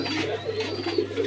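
A pair of yellow Cappuccino pigeons coo softly and continuously at close range, a low steady murmur with faint background noise.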